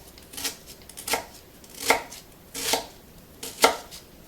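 Knife cutting through a halved onion on a board for a rough panzanella salad, five distinct chopping strokes at an uneven pace, close and clear with no talk.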